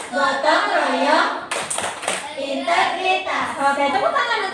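Children in a classroom chant and clap the tepuk PPK rhythm, with a dense flurry of sharp claps in the middle and a softer clap near the end, voices chanting throughout.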